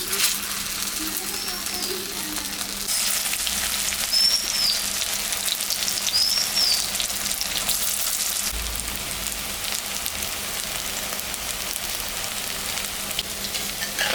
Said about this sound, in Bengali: মোচার বড়াটা ভাজে নিব।